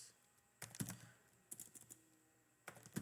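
Quiet bursts of computer keyboard typing while a description is entered into Jira, quick clustered keystrokes separated by short pauses, close and soft.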